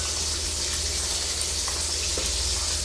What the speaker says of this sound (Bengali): এদিকে মাছ ভাজা হতে হতে